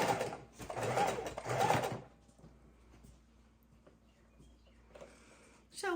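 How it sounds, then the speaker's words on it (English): A heavy duty Singer sewing machine runs in a quick burst through about six layers of scrap fabric, a fast whirring stitch lasting a couple of seconds, then quiet handling before it briefly restarts. "I'm using my heavy duty Singer sewing machine."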